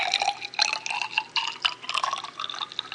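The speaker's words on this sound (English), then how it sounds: "I'm going to fill in the water." Water pours steadily into a container sitting on a scale during a density lab, a continuous close splashing trickle with no talking.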